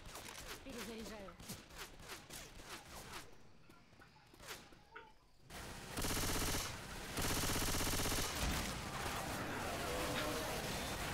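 Rapid gunfire bursts from Left 4 Dead 2 on the Dead Center campaign, with sharp repeated shots and a sustained dense stretch of automatic fire, interleaved with game voices and effects.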